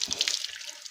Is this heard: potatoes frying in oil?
no